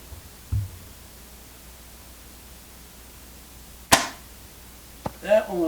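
A PSE Omen bow shot with a dull thump at release, then a sharp distant crack as the arrow hits a 3D target 82 yards out, followed by a brief knock and a short burst of voices.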